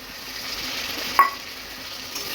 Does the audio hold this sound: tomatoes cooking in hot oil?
yes